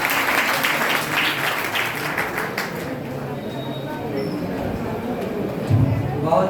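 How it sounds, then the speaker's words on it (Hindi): Audience applause at a Swachhata-themed poetry gathering and competition in India, breaking out after a poem recital; dense, steady clapping from a crowd continues for several seconds at a fairly loud level, with no talk over it. "बहन रोजी सोनकर, इनके लिए जोरदार तालियां एक बार बजा दीजिए आप लोग।"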